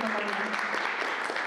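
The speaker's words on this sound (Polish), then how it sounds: "także wielkie brawa" An audience applauds at a Polish poetry competition, a steady dense wash of clapping throughout with a voice faintly underneath.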